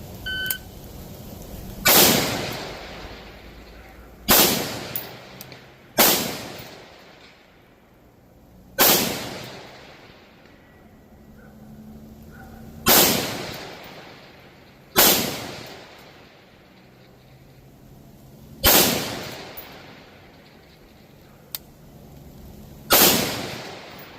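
Single rifle shots from a 14.5 Criterion Core fighting rifle ring out during a timed shooting drill, eight sharp loud cracks at irregular intervals, each followed by a fading echo, with quiet pauses between.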